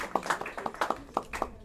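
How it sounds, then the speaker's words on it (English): An audience at a board chairman's speech claps in a brief run of scattered, uneven hand claps, close and fairly light, fading out after a second or two. "If you agree with me that this place looks beautiful, just indicate by clapping."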